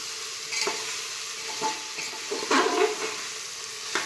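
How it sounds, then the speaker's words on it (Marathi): Carrots and peas being sautéed in a pan for vegetable pulao, giving a soft, steady sizzle with a few light stirring scrapes, close and fairly quiet, with no talking. "गाजर टाकला आता वटाणा टाकते परतून घ्यायचं"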